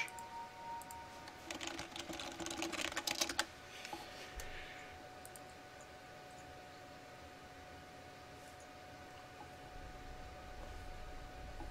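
Rapid keyboard tapping in a short burst during a Dota 2 esports match, moderately close, then fading into a steady low hum of room noise.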